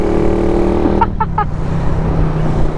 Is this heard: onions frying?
no